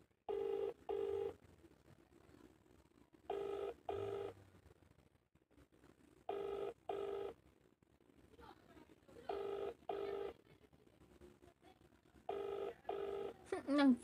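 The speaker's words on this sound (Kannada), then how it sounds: "ಇಲ್ಲ, ಅಪರೂಪಕ್ಕೆ ರಿಂಗ್ ಆಯ್ತೈತೆ ಇವತ್ತು." A phone call rings back in the earpiece: paired electronic ring tones repeat at steady intervals of about three seconds, faint and thin, with soft talk faintly underneath between rings.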